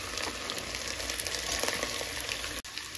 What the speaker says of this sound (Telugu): ఆనియన్స్ కొంచెం గోల్డెన్ కలర్ వచ్చేంత వరకు ఫ్రై చేసుకోండి